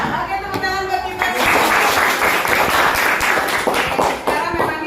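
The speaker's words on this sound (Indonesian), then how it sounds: "Oke, tepuk tangan buat kita." Classroom group clapping hands together, a brief voice at first, then a loud, dense burst of applause that carries on for several seconds close by.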